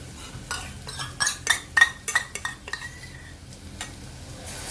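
Metal spoon stirring vegetable pulao with curd in a pan, a series of close, quick clinks and scrapes over a faint background sizzle, tapering off toward the end.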